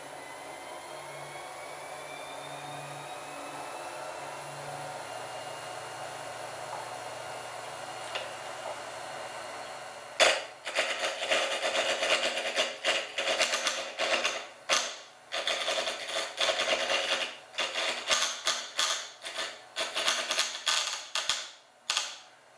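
A Rikon 70-150VSR variable speed wood lathe, with its broken headstock replaced, gives a faint steady hum for about ten seconds, then turns loud and choppy with rapid rhythmic bursts as it runs.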